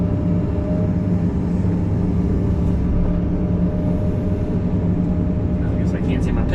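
A steady deep rumble from an excavator digging mud and clay for a train track, continuous and loud, with a person talking over it.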